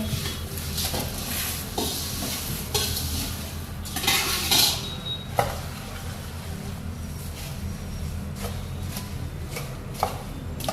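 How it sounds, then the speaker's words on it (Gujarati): Puffed rice tossed into hot garlic in a pan and stirred for garlic sev mamra, giving a steady rustling, scraping clatter with brief louder knocks of utensil on pan, close and continuous without talk. "હવે તરત મમરા એડ કરવાના અંદર હાલ જ નાખી દેવાના"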